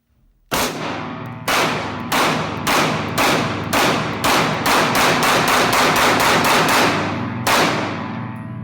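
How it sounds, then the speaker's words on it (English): Glock G17 Gen 5 pistol firing through two magazines, loud close sharp shots starting singly at a slow pace, then quickening into a steady rapid string of about twenty reports, with a final lone shot after a pause. "Go ahead and run these 2 magazines, make sure the gun functions, which I know it does."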